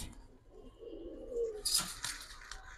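Giribaz pigeons in a coop give a soft, low coo, with faint fluttering and chirpy rustles, quiet and close for under three seconds.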